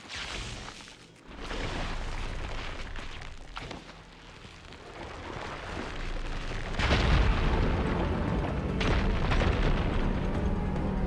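Fire gleam ignited in Horizon Forbidden West, blasting apart a rubble pile with a deep boom followed by rumbling debris and crackling fire, loud and sustained over several seconds.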